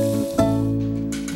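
Minced beef sizzles in a hot pan, a steady crackling fry beneath a sustained tonal hum, with a sharp clatter partway through and bursts of hiss toward the end.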